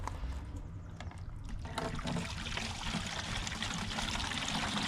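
Vinegar pours steadily into a rusty metal fuel tank, a continuous splashing, gurgling flow heard close up and fairly quiet, with no one talking.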